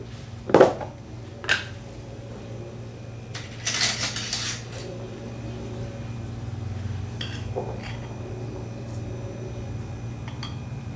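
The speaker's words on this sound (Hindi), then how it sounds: "दूध ऑलरेडी गर्म हो चुका है, अब सिर्फ कॉफ़ी ब्लेंड करनी है।" A spoon clinks against a mug while coffee is stirred into already-heated milk: a couple of sharp taps close by, a short scraping swirl, then faint quieter stirring over a steady low hum.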